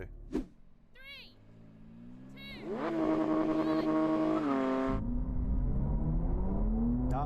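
BMW M4 CSL and Porsche 911 GT3 launching side by side in a drag race start, engines rising sharply from a brief idle into a loud, sustained high-revving roar with climbing harmonic tones, with a voice briefly heard early on.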